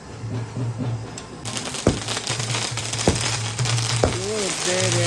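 Paneer sizzling in hot oil in a pan, a steady broad frying hiss with occasional sharp pops and stirring clicks, close up, with a low hum underneath.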